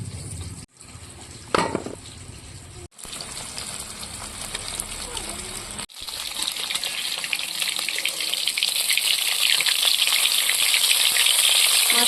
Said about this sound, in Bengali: এইভাবেই বাকি মাছটাও ভেজে নেব